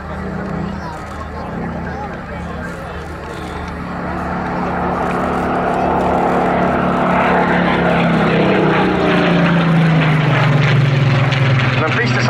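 Spitfire Mark 19 with a high-powered piston engine at an outdoor air show, its propeller drone swelling louder and lower as it passes, under continuous announcer commentary.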